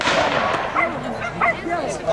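Dog at an agility competition giving short yips and barks a few times across the clip, heard under nearby people talking and encouraging the handler in French.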